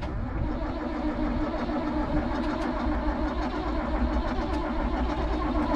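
An old farm tractor engine that had sat unused runs with a steady, rough mid-pitched drone, loud and constant throughout with no talk over it.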